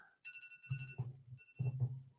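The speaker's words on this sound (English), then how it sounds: "Oh, phone, I silenced you." A phone's ringtone sounds briefly indoors during a livestream, a couple of high electronic tones, then thumping knocks and a short second tone, nearby and moderately quiet.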